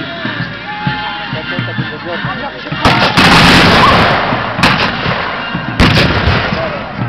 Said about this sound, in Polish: Strzelają do przeciwników cały czas, a tu już przygotowywane są kolejne wybuchy armatnie.